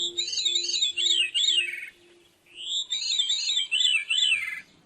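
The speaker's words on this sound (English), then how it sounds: "So here's a song of a veery" A veery sings two clear, flutey phrases that spiral downward, separated by a short pause, close and clean against a silent background.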